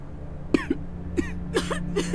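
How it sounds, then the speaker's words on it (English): A character in Telltale's The Walking Dead, Season 2 episode 4, coughs in a series of short, rough bursts, close and moderately loud over a low steady hum, with no talk. "She coughing and acting crazy."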